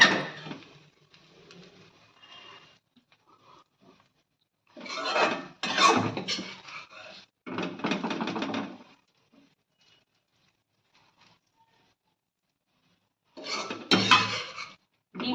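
A utensil stirs and scrapes fried onion, green chilli, beans, carrot, potato and chicken around a pan for chow mein, in rasping bursts separated by quiet gaps, close and fairly loud.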